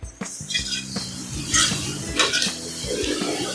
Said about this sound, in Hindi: तकरीबन हम 2 मिनट के लिए इसको फ्राई करेंगे।